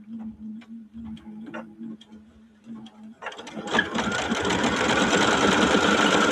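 A sewing machine stitches an outline in white thread on a wedding quilt block, starting after soft ticking clicks and then running as a steady, loud, close mechanical whir.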